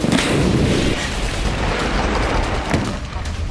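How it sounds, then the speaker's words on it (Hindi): Mortar fire explodes in Gaza, a dense, continuous rumble of booms with a sharp burst near the start and another crack toward the end, loud and close. "मोर्टार से प्रहार कर रहे हैं"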